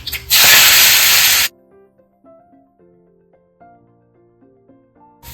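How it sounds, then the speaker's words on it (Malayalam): Mustard seeds splutter in hot coconut oil, a loud burst of hissing, spattering sizzle lasting about a second, then cutting off, leaving a faint melodic electronic tune. "ഇനി കടുക് വറുക്കാം."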